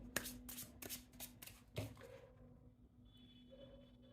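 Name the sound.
drawing tarot cards from the deck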